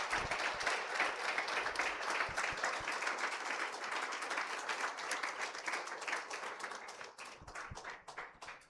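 A church congregation in Cancún applauds steadily, many hands clapping together at a moderate distance; the applause continues, then thins out and fades near the end.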